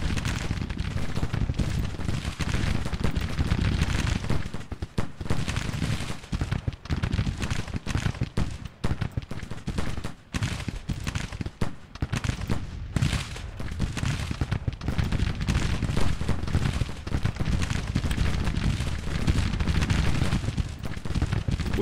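Musket volleys from Civil War regiments in Grand Tactician: The Civil War, with ragged, repeated crackling gunfire and deep booms rolling steadily across the battlefield with no pause.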